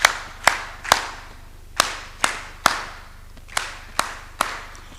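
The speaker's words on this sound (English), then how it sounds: "that's why we're clapping for you" Clapping at a civil society summit in East Africa, heard as about ten sharp, separate claps spaced unevenly over several seconds, close and fairly loud with no talk over them.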